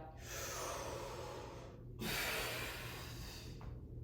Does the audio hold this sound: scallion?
no